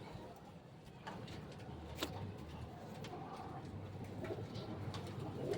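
Domestic pigeons, including a white bird kept for racing, coo in low soft repeated murmurs amid steady background noise, with occasional sharp ticks and a voice briefly present.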